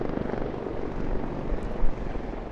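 A Royal Navy Wildcat helicopter flies at the Eastbourne International Airshow, its broad rotor and engine roar loud and steady throughout, swelling briefly near the end, with no talk.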